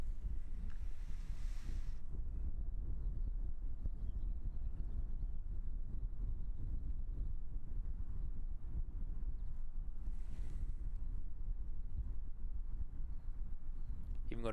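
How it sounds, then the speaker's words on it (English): Wind gusts and buffets the microphone outdoors at Christchurch Airport in New Zealand as a steady low rumble, with brief louder gusts near the start and around ten seconds in. "with quite a decent wind picking up as well"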